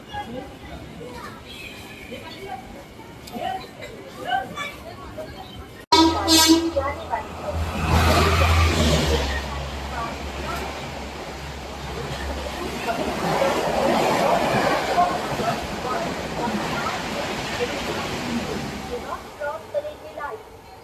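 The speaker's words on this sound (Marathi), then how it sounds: "मुंबईची लाईफलाईन मुंबई लोकल आलेली आहे." A Mumbai suburban local train rumbles into a station close by with low engine drone and rattling, amid station noise and people talking.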